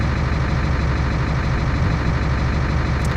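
Truck engine from the 18 Wheels of Steel Extreme Trucker 2 driving game, a steady, dense drone holding at an even level throughout, with no talk over it.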